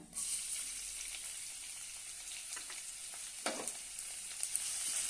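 Finely chopped onion sautés in a pan with mustard seeds and cumin for a bitter gourd curry, giving a steady close frying hiss with a couple of brief stirring scrapes.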